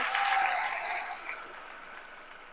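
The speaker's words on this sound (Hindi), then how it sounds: "तो बजा दो ताली इस बात पे" An audience at a political rally claps together in sustained applause, dense and fairly loud at first, then gradually thinning and fading.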